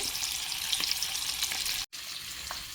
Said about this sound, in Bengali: ডিমটাকে পেঁয়াজ দিয়ে ভুনা করব পোলাও দিয়ে খাওয়ার জন্য এই জন্য আগে হালকা করে একটু ভেজে নিচ্ছি